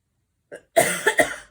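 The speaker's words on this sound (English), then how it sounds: "I don't know why I'm coughing all of a sudden" A single close cough: a short catch of breath, then a harsh burst with two quick follow-up hacks, clear and fairly loud, with no talking.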